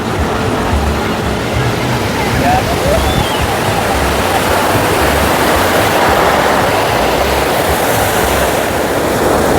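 Ocean waves break on a beach in Bali, where surfers are trying to ride, giving a loud, constant wash of rushing surf and wind noise across the whole stretch.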